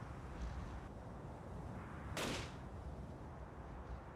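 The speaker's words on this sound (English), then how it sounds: "I hear gunshots" A single sharp gunshot cracks out over a steady background hum in the video game Fate/Grand Order, brief and fairly loud, with no voices.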